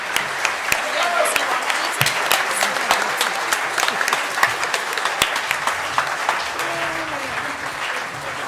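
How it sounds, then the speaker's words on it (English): An outdoor festival crowd gives a round of applause for partners and guests, many hands clapping in a sustained, moderately close wash with sharp individual claps standing out and faint voices mixed in. "So let's have one more round of applause for our partners and guests."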